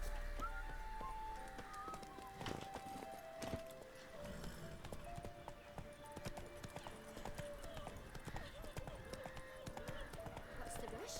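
A horse's hooves clip-clop at a steady gallop in The Witcher 3, close and rhythmic under game music, with a voice talking at times.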